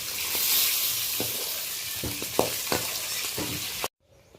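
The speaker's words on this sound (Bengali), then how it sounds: "বেশ গোল্ডেন কালারের করে মাছগুলোকে ভেজে নিয়েছি।" Magur catfish fry in oil in a kadai wok with a steady, close hissing sizzle. A few sharp clinks of stirring break through before the sound cuts to silence near the end.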